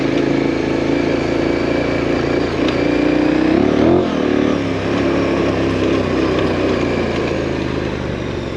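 A KTM 1090 Adventure motorcycle climbs a gnarly, rough section of trail, its engine roaring loud and continuous up close, the pitch dipping and swelling briefly midway as the rider works the throttle.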